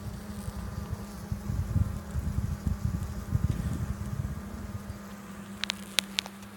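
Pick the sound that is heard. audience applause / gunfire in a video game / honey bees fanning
honey bees fanning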